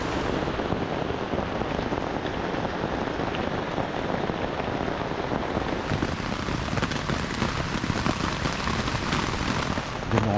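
Heavy rain pours steadily on a campsite during a cycling tour near St. Louis, a dense, loud, unbroken hiss of drops hitting surfaces that lasts throughout, with no voices.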